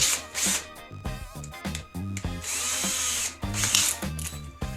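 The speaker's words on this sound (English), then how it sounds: "use the nail as the drill bit to run the pilot hole" A power drill driving a nail with its head clipped off as a bit whirs in short repeated bursts, revving up and stopping several times, close and fairly loud with no talking.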